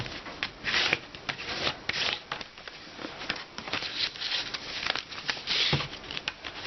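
Paper gift bag made from a C5 envelope being creased back and forth along its folds, a continuous close rubbing and scraping with quick uneven strokes and no talk.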